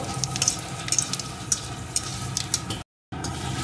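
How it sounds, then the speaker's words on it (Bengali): Bay leaf, dried chilli and nigella seeds fry in hot oil with a crackling, spitting sizzle and sharp pops, cut by a brief dropout near the end. "এখন ফোড়নগুলো সুন্দর করে ভেজে নেব"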